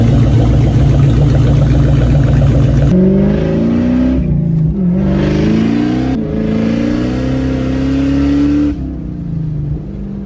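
A Mustang Bullitt engine with a throaty Magnaflow Magnapack exhaust revs up and down repeatedly, loud and close, the pitch rising and falling with each blip.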